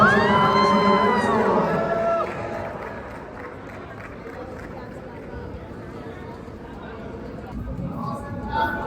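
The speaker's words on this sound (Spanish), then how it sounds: "Un gran aplauso para Miss Universo." Loud crowd cheering and clapping at the opening of a Miss Universe 2023 press conference, strongest at first, then fading to a murmur before rising again briefly at the end, with voices mixed in.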